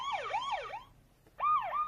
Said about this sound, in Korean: 그때 구급차가 달려왔어요.